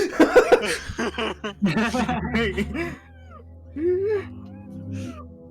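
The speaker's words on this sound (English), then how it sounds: "It's meowing at us." A cat meows in a few drawn-out, wavering cries, first under excited voices and laughter, then more on its own against a quieter background.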